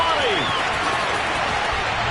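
A stadium crowd at a football game roars and applauds after a Washington touchdown, a dense, loud, continuous wash of cheering with a commentator's voice over it.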